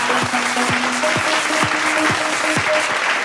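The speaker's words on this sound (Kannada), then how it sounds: "ಬಾಲಿ ಒಂದು ಜಬರ್ದಸ್ತ್ ಚಪ್ಪಾಳೆ" A studio audience at a televised Kannada celebration show bursts into steady, dense applause, with many hands clapping together over a broad wash of sound. A low tonal line runs faintly beneath it.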